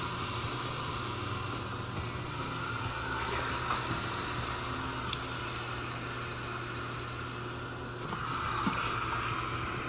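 Pork searing in hot oil inside an Instant Pot gives a steady, close sizzling hiss that holds evenly throughout with only slight swells.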